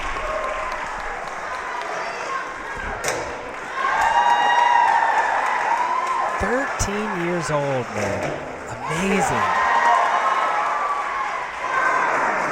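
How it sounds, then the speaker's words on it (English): Crowd cheering and applauding an obstacle competitor at a ninja-style obstacle course finals, loud sustained applause swelling in waves with a commentator talking over it. "Every successful grab, they're cheering her on"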